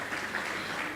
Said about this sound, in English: A round of applause for Mr. Clement Ugoji